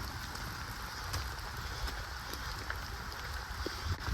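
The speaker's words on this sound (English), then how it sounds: "Oh man, I got caught in the rain." Steady rain patters over a mountain trail, a dense, even hiss of drops with faint wind, no voices, holding at moderate volume throughout.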